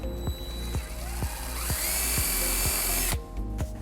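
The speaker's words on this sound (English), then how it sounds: "3/16 drill bit and drill our first hole" A power drill fitted with a 3/16 bit bores a hole into a trailer hitch on a 2022 Honda Pilot, whining close and loud as the motor spins up to a high steady pitch, then stops abruptly.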